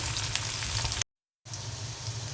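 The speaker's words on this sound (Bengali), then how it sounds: "পেঁয়াজ আর রসুন দিয়ে দিয়েছি তেলের মধ্যে।" Onion and garlic sizzle in hot oil for a vegetable dish: a steady, close, bright frying hiss that cuts out for a brief silent moment and then resumes just as strongly.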